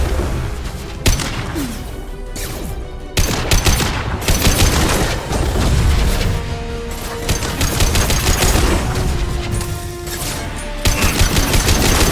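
Dense gunfire from a Mass Effect 2 firefight in the Lair of the Shadow Broker, with rapid overlapping shots and automatic bursts going continuously at close range, plus occasional heavy impacts, filling the whole stretch without pause.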